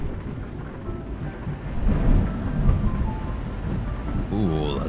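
A deep rumble of thunder rolls through steady rainfall in Euro Truck Simulator 2, swelling in the middle before easing off, with a brief higher sound at the end.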